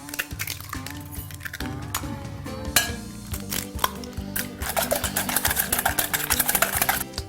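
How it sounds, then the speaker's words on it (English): Rapid, rhythmic clinking of a utensil whisking two eggs in a bowl, growing quicker and sharper toward the end, over faint background music. "Next, I'm going to whisk up 2 eggs."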